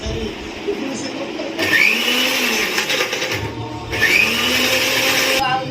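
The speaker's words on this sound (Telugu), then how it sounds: "నిమిషం ఇట్లా మిక్సీ పట్టుకోవాలి." A kitchen mixer grinder whirs as it grinds chili, tamarind and garlic cloves, in two loud, close bursts of high-pitched motor roar with a lower hum between them.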